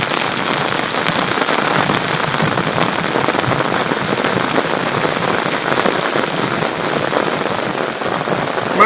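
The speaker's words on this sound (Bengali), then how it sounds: "প্রচণ্ড জোরে বৃষ্টি হচ্ছে" Very heavy rain hammers down on a river boat during a fishing trip into a tiger forest, a loud and unbroken close-up roar of drops drumming on surfaces that lasts throughout, with no talking.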